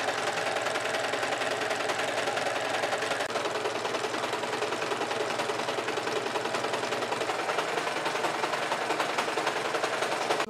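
A sewing machine runs steadily, stitching the long side seams of a skirt with a fast, even mechanical whir that carries on alone throughout.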